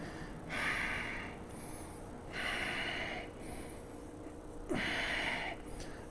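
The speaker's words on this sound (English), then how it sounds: "Breathing." Heavy breathing during a side crow pose in a strong yoga flow class: about five distinct, forceful exhales with short gaps between them, fairly quiet and close, with no speech over them.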